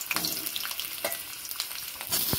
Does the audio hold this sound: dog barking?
no